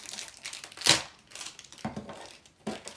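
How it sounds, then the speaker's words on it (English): Scissors cut and crinkle through Big Shot die-cutting machine packaging up close, giving a few sharp crunchy snips and rustles with short pauses between them. "I'll just use my scissors again. Take this top part off."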